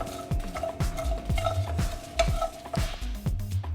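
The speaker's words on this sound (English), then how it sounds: "I'm going to dry roast them till the time my jeera doesn't go slightly brown" Cumin seeds and garlic cloves dry roasting in a pan, stirred in a steady scraping rhythm with repeated strokes and a light sizzle underneath, close and moderately loud.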